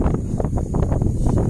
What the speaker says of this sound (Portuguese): O vento tá forte, hein?